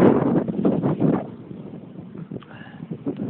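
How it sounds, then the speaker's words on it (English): Strong wind gusts across open, empty country, a loud roaring buffet on the microphone that eases off into a lower rumble with a few faint bumps. "Wind's blowing all nuts."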